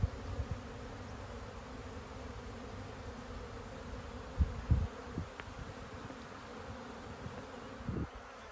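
Honey bees swarm around apiary hives and small nuc colonies on a farm, a steady soft buzzing hum with a few faint bumps and no speech.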